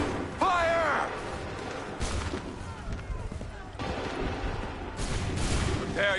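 Musket volleys crack in Assassin's Creed 3, several loud broadband bursts spread across the scene with shouted voices and battle noise between them.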